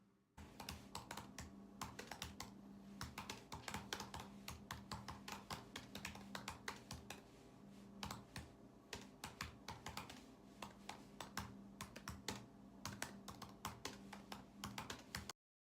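Someone types fast on a computer keyboard indoors, making a dense, continuous run of close, crisp key clicks with brief pauses and no talk.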